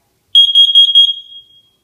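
A Nest Protect smoke and carbon monoxide alarm sounds during a manual test: a loud, close series of shrill beeps, about five pulses, then a tone that fades away.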